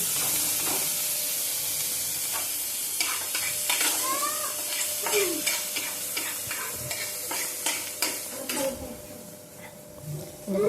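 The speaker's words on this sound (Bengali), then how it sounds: "পেঁয়াজটা যখন একটু হালকা ভাজা হয়ে যাবে" Onion sizzles steadily in a hot pan while a utensil stirs and scrapes against the metal, with occasional clinks.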